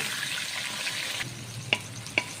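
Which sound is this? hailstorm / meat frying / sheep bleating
meat frying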